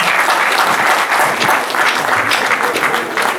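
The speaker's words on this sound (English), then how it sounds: "Please, a round of applause for him." Conference audience breaks into loud, dense applause, a continuous wash of many hands clapping steadily throughout, without any voices rising above it.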